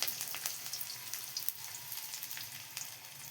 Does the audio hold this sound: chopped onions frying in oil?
yes